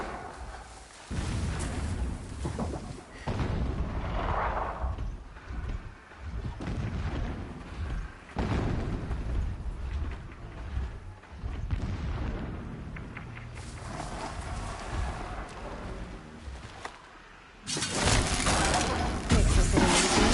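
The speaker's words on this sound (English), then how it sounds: "Explosions in the distance." Distant explosions in the video game Horizon Zero Dawn, deep low booms and rumbles rolling through the game's ambience, with a sharper, louder burst near the end.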